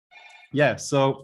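A telephone rings briefly during an online conference talk, a faint electronic ring with stacked tones before someone speaks over it.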